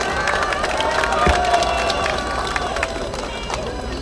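A crowd at an outdoor Seoul campaign rally claps and cheers in a steady, busy wash, with a public-address voice and shouts mixed in.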